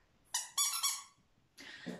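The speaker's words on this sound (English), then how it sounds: "I'm going to use my squeaky duck" A small bright yellow rubber duck toy squeaks in three quick, close, loud squeals, then gives a rougher squeeze-and-wheeze a moment later, with no one talking over it.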